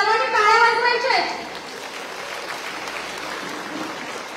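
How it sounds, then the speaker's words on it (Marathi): Applause from an audience welcoming a guest at a felicitation event in Vaijapur, a brief burst of clapping under a voice, then thinner scattered clapping continuing to the end. "सर्वांनी टाळ्या वाजवायच्या आहेत."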